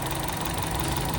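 A Chevrolet Trax engine idles quietly and evenly, a soft, continuous low hum with no voices, after repairs that cured a no-start condition.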